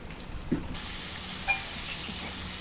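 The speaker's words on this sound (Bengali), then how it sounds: "পেঁয়াজ দিয়ে বেশ কিছুক্ষণ কষিয়ে নেব, যতক্ষণ না পেঁয়াজটা একটু হালকা ভাজা হয়" Garlic paste and chopped onion fry in a pan over a village clay stove, a continuous close sizzle that brightens after a moment, with a couple of light stirring knocks and no talking.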